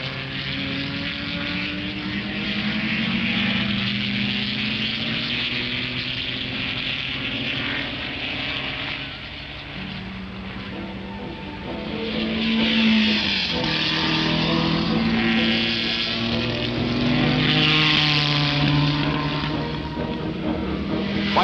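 A 1961 Cooper Maserati Formula 1 car and other racers roar past on the Ardmore Circuit, engines droning and rising and falling in pitch as they pass at a distance, steady and loud with no talk.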